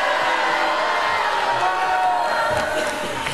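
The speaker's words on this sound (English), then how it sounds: "Keep booing, right? Keep booing," A studio audience at an American Idol top 16 show boos loudly and steadily, a dense crowd roar with scattered shouts sustained throughout.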